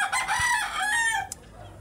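A rooster on a farm with young chickens gives a single loud, close crow that fades into a short quieter tail.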